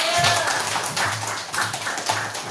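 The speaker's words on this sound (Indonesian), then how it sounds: "Tepuk tangan dulu." Classroom audience clapping together on cue during a storytelling lesson, a brief burst of rhythmic claps with a teacher's voice heard over it.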